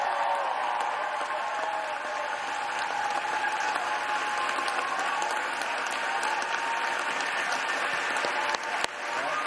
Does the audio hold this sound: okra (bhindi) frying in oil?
no